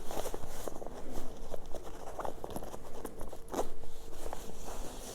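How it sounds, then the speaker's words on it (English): A zipper on a sewn bag is opened fully by hand, heard as a close, steady rasping run with light crinkling of fabric and lining, continuous and fairly loud for several seconds without any talking. "I'm going to open the zipper fully."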